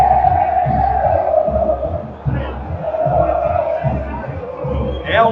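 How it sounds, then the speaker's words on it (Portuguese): RB Bragantino supporters roar and chant continuously in a football stadium during a Campeonato Paulista match against Água Santa, a dense, loud crowd wash with a brief dip midway and a whistle-like rise at the end. "a torcida do RB faz a festa"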